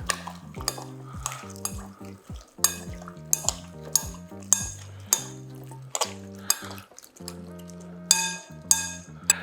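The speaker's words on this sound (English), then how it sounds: "Give it a stir." Ma po tofu mixture of cauliflower and tofu being stirred in a pan, a series of loud metallic scrapes and clinks of a utensil on the pan in an irregular rhythm over a light sizzle, with no voices.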